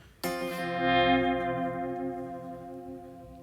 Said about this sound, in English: basically just made it more of a sort of delayed reverb